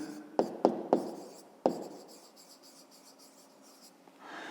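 A pen taps and scratches on paper while working a 5th-grade maths exercise, with a few sharp strokes early and then steadier, fainter writing.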